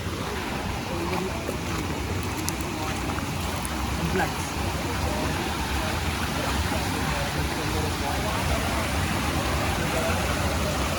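Sea waves wash steadily onto a crowded beach, a dense continuous rush of surf with a murmur of people nearby.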